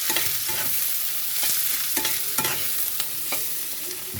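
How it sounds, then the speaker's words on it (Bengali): Onions fry in a pan, a constant close sizzle broken by repeated spatula scrapes and taps at irregular intervals, no talking. "পেঁয়াজগুলো আমি লাল লাল করে আগে ভেজে নেবো"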